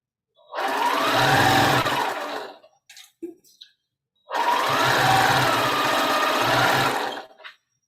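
Two sustained runs of a sewing machine piecing quilt patches into a four-patch, each a few seconds of rapid, even whirring up close, with a brief gap of small handling clicks between them.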